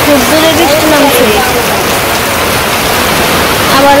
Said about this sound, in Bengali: খুব দূরে বৃষ্টি নামছে